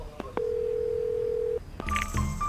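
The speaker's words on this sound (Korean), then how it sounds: "어디론가 전화를 합니다." Telephone keypad tones from a film scene: a few short beeps, then one long steady tone, followed by a burst of ringing and electronic signal tones, fairly close and clear.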